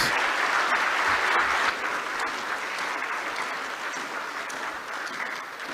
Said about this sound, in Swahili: naomba tuinuke na tuendelee kupiga makofi mengi kwa Mheshimiwa Rais